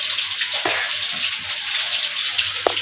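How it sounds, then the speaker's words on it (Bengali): Meat frying in a pan on a home kitchen stove, a steady broadband sizzle with faint crackles running unbroken throughout. "দেখো, এখন হচ্ছে গোস্ত ভাজতে দিচ্ছি"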